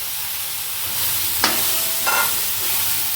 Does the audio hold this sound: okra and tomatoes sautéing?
yes